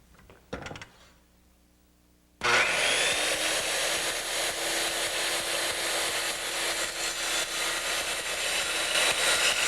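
Shopsmith saw cutting a bevel in a board, starting abruptly after a few quiet seconds with a short clatter and then a steady loud whining buzz that runs to the end, with no talk.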